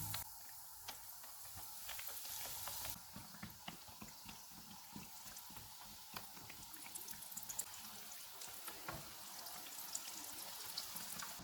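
Bread pockets with chicken deep-frying in hot oil over a medium flame, a quiet, continuous crackle and bubbling with tiny irregular pops throughout.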